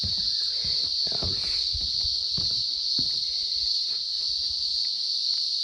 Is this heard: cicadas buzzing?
yes